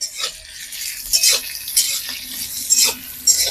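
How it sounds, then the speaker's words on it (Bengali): Onions with turmeric fry crisp for biryani, a light sizzle under repeated rhythmic spatula strokes and clinks against the pan, close up with no speech. "এবার চলো পেঁয়াজটাকে বেশ মুছমুছে করে আমাকে ভাজতে হবে"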